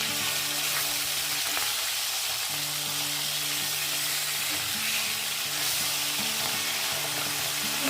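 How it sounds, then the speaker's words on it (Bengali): Pomfret fish sizzle steadily in hot oil in a pan, a continuous close crackling fry with faint tonal hum underneath and no talking. "এভাবে আমি বাকি মাছ দুটো ভেজে নেব"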